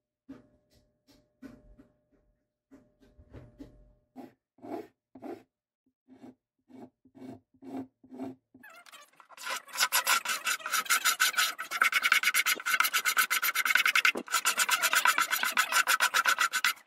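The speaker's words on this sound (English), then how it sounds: "I used a cabinet scraper and a single edge razor to level everything out." A cabinet scraper and a single edge razor level purfling and glued wood edges, first as short, regular scraping strokes, then as a fast, continuous rasping scrape, close and clear with no talk.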